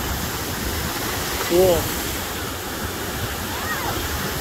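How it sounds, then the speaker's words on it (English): Large Gulf of Mexico waves break and roll onto Pensacola Beach in a continuous loud surf roar, one surge swelling midway, while a voice briefly speaks over it. "Those are like the biggest waves I've seen out in the Gulf so far."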